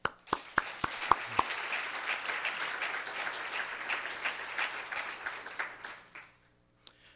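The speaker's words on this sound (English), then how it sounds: "Let's give them an applause." Applause from the audience at a Moreno Valley State of the City speech: a few sharp early claps grow into a sustained round that fades out near the end, heard at moderate distance in a hall.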